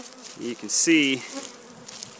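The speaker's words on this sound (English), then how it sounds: "Bees are hungry and they're all over it." Hungry honeybees swarm over freshly extracted honey supers in a robbing frenzy, a dense buzzing hum up close with individual bees whining past, while a person speaks briefly.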